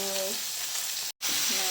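Water spinach (kangkung) hits a hot pan with leftover sambal and stir-fries in a loud, steady sizzle, broken by one brief cut before the crackling resumes.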